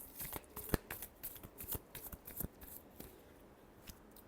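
A deck of tarot cards is shuffled by hand in a quick series of soft, crisp riffling slaps and flicks, close and quiet with no voice.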